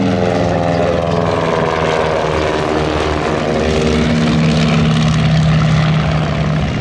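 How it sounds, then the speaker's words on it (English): Replica WWI biplanes, a Halberstadt CL-1 and a Royal Aircraft Factory SE-5A, fly overhead in a mock dogfight at an air festival, their propeller engines droning steadily and loudly throughout with shifting pitch. "Straight out in front of us, up high, the CL-1 with on its tail the Royal Aircraft Factory SE-5A."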